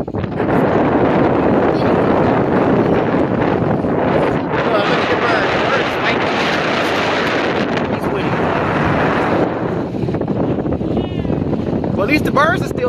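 Strong coastal wind after Hurricane Ida roars steadily into the microphone, loud and constant throughout, with faint voices buried underneath and a few bird calls near the end.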